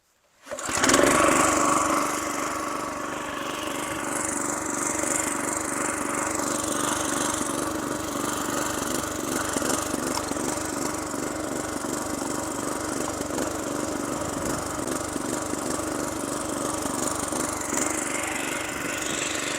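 A small petrol engine of a walk-behind tiller starts up nearby and then runs steadily with a loud, chugging drone, without pauses.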